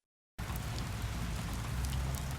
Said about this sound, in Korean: 도서관 창문 밖으로 떨어지는 빗방울 소리가 귓가에 잔잔하게 울렸다